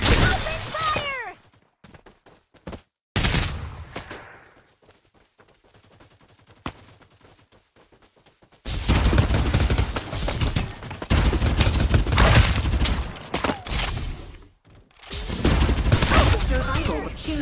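Gunfire in the video game Farlight 84, loud bursts of rapid automatic shots alternating with quieter stretches of scattered single shots and game effects, the heaviest sustained firing in the second half.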